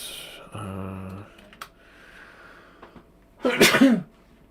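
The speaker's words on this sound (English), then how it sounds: "Oh boy, got the sneezes. I've got the sneezes." A single sharp sneeze bursts out near the end, preceded by a brief low hum and quiet rustling; close and fairly loud.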